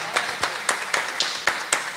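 Congregation applauding at a home worship service, with sharp, steady hand claps about every quarter second, close and fairly loud. No other sound competes.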